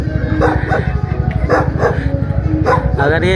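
A pitbull barks repeatedly at close range, short loud bursts in a rough rhythm, with a voice talking alongside.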